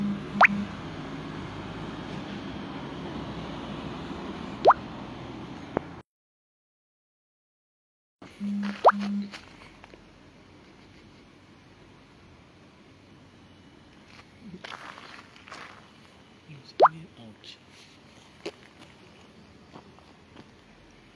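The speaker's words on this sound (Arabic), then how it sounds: "سمعوا صوت المياه" Water leaks and pours from a building under construction in Sidi Moumen, making a steady broadband rush with scattered plops and drips. A brief silent gap falls near the middle before the flow resumes.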